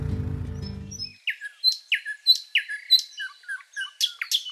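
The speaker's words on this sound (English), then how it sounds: "Morning settles over Phin in a hush of pale light and gentle birdsong." Gentle morning birdsong drifts through a valley village in the Vietnamese highlands near Sapa, a series of bright chirps and short trills repeating in quick succession after a brief low rumble fades out, fairly close and clear over quiet air.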